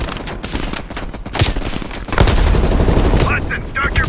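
Call of Duty: Black Ops Cold War combat with loud, rapid heavy machine gun fire, a dense, continuous clatter of shots and impacts, with voices speaking over the battle.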